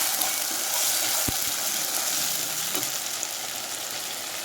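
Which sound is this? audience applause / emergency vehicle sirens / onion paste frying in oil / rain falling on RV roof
onion paste frying in oil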